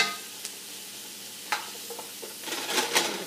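Vegetables for short ribs sizzle quietly in a pan while being stirred, with soft scraping strokes near the middle and a busier burst of stirring toward the end, no talk.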